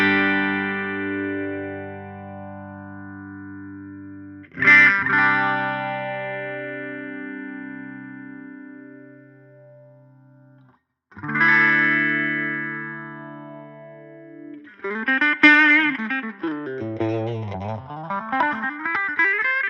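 Clean electric guitar chords ring out through an MXR Phase 90 phaser pedal's sweeping effect, sustaining and fading between strums, ending with a swirling, wobbly single-note passage.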